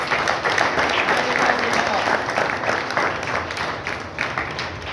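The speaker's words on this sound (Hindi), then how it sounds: "हमारे विकास जी के लिए भी जोरदार तालियां बजाइए।" Loud, steady applause from an audience at an organic farming training session in Kolhapur, many hands clapping together in a continuous, full burst that eases only slightly toward the end.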